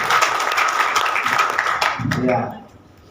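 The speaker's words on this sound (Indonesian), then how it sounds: "Kasih tepuk tangan dulu buat anda semuanya." Seminar audience at a motivational talk gives a brief round of applause, steady clapping mixed with a voice, then tapering off near the end.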